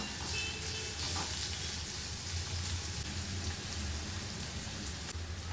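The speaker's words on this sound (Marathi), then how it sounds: "गॅस मोठाच ठेवूया. कांद्याचं परतून घेऊया." Chopped onion sautéing over a high gas flame for restaurant-style paneer chilli, a steady dense sizzle with no pauses, alone and fairly close.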